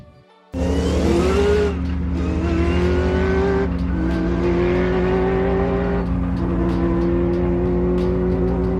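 A Mercedes M119HL 5.9 liter twin turbo V8 in a Sauber C9 race car bursts in loud and close, revving hard through repeated rising gear pulls with brief dips between shifts, raw and open-sounding.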